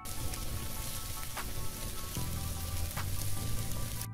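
Spices and Kashmiri red chili powder fry in oil in a pan for a loitta fish curry, a dense continuous sizzle like steady rain, moderately quiet and close, with occasional soft stirring clicks.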